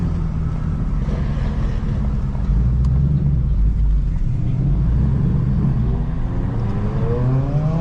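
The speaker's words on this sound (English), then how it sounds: "we are pulling out with the McLaren" A McLaren sports car pulls out near a detail garage in Fort Lauderdale, Florida; its engine rumbles loud and close, a low drone that builds slightly as it moves off.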